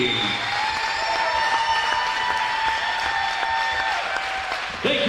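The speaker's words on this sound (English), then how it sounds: "a big round of applause for your" An audience at a high school boys' basketball game at Sacred Heart Academy applauds and cheers in a gym. Dense, steady clapping fills the space, with a horn or tone held underneath, and it fades near the end.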